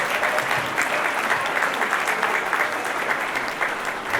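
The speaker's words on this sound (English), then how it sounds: "Give that man another round of applause around Lifetime Achievement right there." Sustained applause from an awards gala audience honoring a Lifetime Achievement recipient at a chamber of commerce event, dense steady clapping filling the whole stretch at close range.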